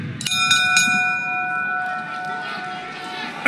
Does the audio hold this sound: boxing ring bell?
yes